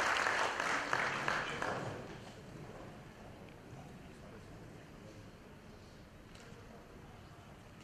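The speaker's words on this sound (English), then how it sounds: "A huge round of applause." An audience at a real estate awards anniversary ceremony applauds, a burst of clapping that fades within about two seconds into quiet room noise.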